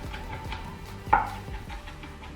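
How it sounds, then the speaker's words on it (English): Garlic chopped and minced with a knife on a cutting board, a quick series of close, crisp knocks at an irregular rhythm with one louder clack partway through, no talking. "I'm just gonna chop up the bigger chunks and mince them real"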